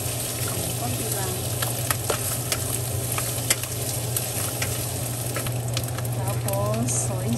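Vegetables and brisket stir-fry in a pan, a continuous close sizzle and crackle punctuated by regular scraping and clacking of a spatula stirring, with a low steady hum beneath and a voice speaking occasionally.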